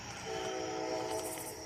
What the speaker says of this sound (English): I heard the train here.